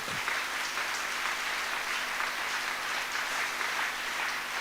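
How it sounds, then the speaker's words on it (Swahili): A church congregation claps together during a Swahili revival service, a steady, dense wash of many hands that stays even throughout, heard at a moderate distance with no talking over it. "Basi naomba tupige makofi."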